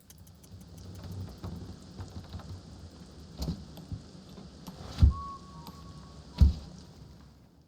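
Rain ambience in the video game Thief (2014): a steady soft patter of rain with low rumbling and a couple of louder thuds or distant thunder-like booms near the end, plus a brief tonal ping.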